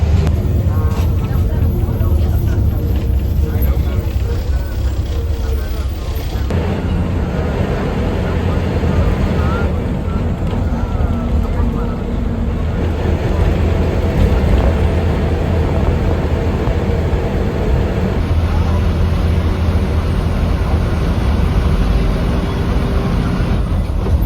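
A bus engine rumbling steadily while riding aboard, with constant loud road and motor noise and rattling throughout; voices talk under the din.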